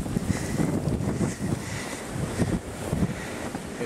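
Blizzard winds gusting at 40 to 50 miles an hour with heavy snow in Fargo in 2008, a steady, loud roar of wind buffeting the microphone throughout, with no talking.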